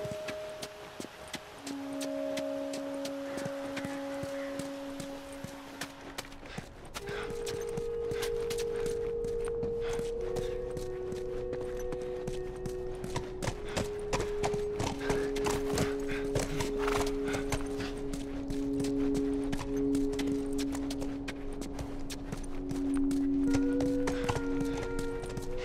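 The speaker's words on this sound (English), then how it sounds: "Stay with the horse." Horse hooves clip-clop steadily in The Last of Us, a continuous walking rhythm heard throughout with game music underneath.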